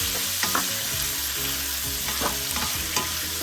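Catfish pieces and vegetables sizzle steadily in a frying pan while being stirred, with a few scraping utensil strokes standing out over the constant crackle; no voices.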